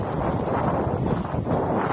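Strong wind buffets the microphone during a group bicycle ride in a continuous loud rumble with gusty swells, with no speech.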